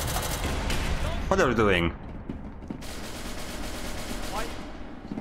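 Gunfire in the multiplayer video game SCP: Secret Laboratory, scattered shots under a busy game mix with a brief spoken question partway through.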